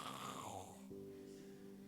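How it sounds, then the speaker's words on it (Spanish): Loud snoring, one drawn-out rasping breath that fades into a low steady drone, heard close with no other voices. "Y tiembla esa casa del ronquido."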